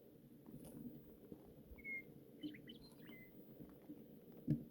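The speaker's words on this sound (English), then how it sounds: "have you been paying attention to the birds in the background? The songs that they sing." Faint, scattered bird chirps and a short warbling phrase rise over a low outdoor murmur near a boat being worked on, with a few sharp clicks and taps.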